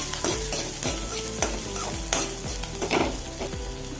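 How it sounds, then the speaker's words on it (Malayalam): Split moong dal and spinach are stirred in a pan, making close, repeated scraping strokes over a bright crackling sizzle, loud and rhythmic with no speech. "അതും കൂടി ചേർത്ത് നല്ലപോലെ ഒന്ന് ഇളക്കി കൊടുക്കാം"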